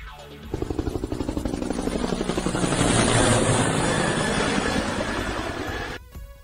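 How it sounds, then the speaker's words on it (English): A video game helicopter's rotor chops in a fast, steady rhythm under a whining engine, holding loud and close for several seconds before cutting off abruptly. "Helicopter."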